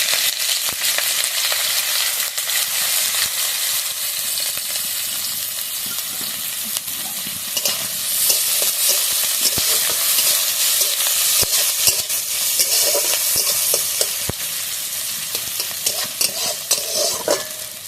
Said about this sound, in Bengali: তো লঙ্কা পেঁয়াজ ভালোভাবে ভেজে নিয়েছি।